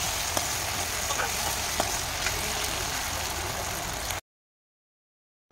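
Food sizzles steadily in a kadai in a restaurant kitchen, a dense close hiss with faint clinks of stirring, cutting off abruptly to silence near the end.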